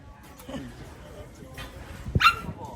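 A dog barks once, loud and close, amid a scuffle of dogs being urged to play-fight, with people talking around it.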